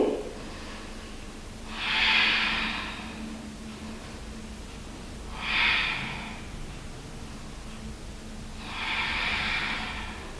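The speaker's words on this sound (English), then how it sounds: "Breathing." Slow, deep breaths during a yoga sun salutation sequence: three long, airy exhales spaced several seconds apart, close and clear over a quiet room.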